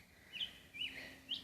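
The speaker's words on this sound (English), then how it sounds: "The birds are singing, the sun is up." Birds singing outdoors on a sunny morning, three short, high chirps spaced about half a second apart, faint and distant over a soft background hiss.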